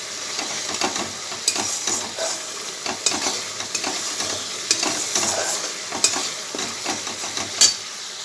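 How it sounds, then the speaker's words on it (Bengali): Spice paste with tomato sauce stir-fried in a pan, steady close sizzling and hissing under repeated scraping and stirring clinks, continuous throughout with no voices. "একটু টমেটোর সস দিলাম, মশলাটা একটু কষিয়ে নিই।"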